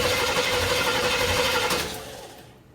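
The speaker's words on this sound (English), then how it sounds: "Roll this thing over a few times, fill the bowl up, see if we can get it running." A small engine being cranked over to start makes a rapid, rhythmic mechanical chugging. It runs loud and close for about two seconds, then slows and fades out.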